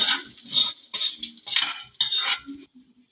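Okra pieces dropped and stirred into a pot of sambar, a few clattering bursts of utensil scraping and tumbling vegetables against metal, close and fairly loud, alone without talk.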